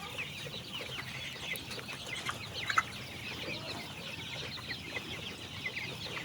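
Chickens on a poultry farm cluck softly amid a steady low rustle of the flock, with no talk, the clucks faint and scattered against continuous background noise.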